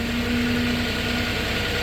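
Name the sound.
Princeton PB55.3 piggyback forklift engine running, mast going up and down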